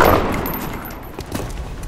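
Rapid gunfire from a turn-based squad battle in XCOM: Enemy Unknown, a dense burst of shots that fades slightly over about two seconds, with no talk over it.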